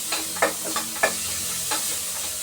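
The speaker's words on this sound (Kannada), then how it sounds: "ಸಣ್ಣ ಕಟ್ ಮಾಡಿರೋ ಈರುಳ್ಳಿ 1 ಹಾಕಿ ಚೆನ್ನಾಗಿ ಗೋಲ್ಡನ್ ಬ್ರೌನ್ ಕಲರ್ ಬರಬೇಕು" Chopped onions fry in a pan for Guntur chicken, a steady sizzle broken by several sharp scrapes and clacks of stirring.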